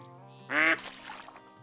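Ducks quack loudly in a short burst as a flock of hens comes in at a duck blind, followed by fainter scattered calls.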